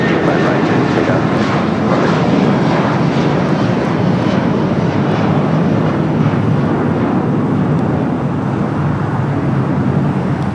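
A jet airliner takes off from runway 25 right at LAX, a loud, steady roar of engines that holds broadband and unbroken throughout, with a faint background murmur that may be voices.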